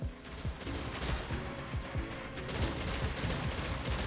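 A rapid-firing Oversoul Decree raid weapon from Destiny Rising shoots in a quick, even stream of punchy shots, steady and close throughout.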